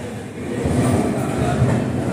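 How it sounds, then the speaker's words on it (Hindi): A passenger train pulls into platform 3 at Lokmanya Tilak Terminus, with a steady, loud rumble of wheels and carriages rolling past close by and continuing throughout. "और अपनी ट्रेन आ चुकी है LTT के 3 नंबर प्लेटफॉर्म पे"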